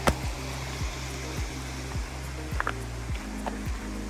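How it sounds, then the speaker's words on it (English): Steady rushing water of Garzas Canyon Creek fills the scene, a continuous broadband wash flowing nearby, with a repeating low mechanical hum pulsing underneath. "pretty sure you can hear that creek."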